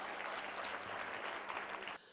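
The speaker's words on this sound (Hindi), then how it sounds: "जोरदार तालियां ईटीवी के लिए" Crowd applause at a Republic Day gathering with BSF soldiers, a dense continuous wash of clapping that holds steady for about two seconds and then cuts off abruptly.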